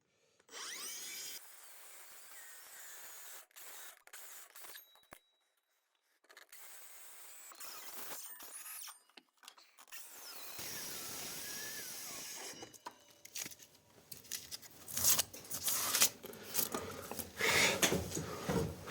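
A circular saw fitted with a cheap, dull blade cuts wood at a holiday-home build site, with intermittent whining bursts, pauses and harsh rasping bites that grow louder and choppier toward the end.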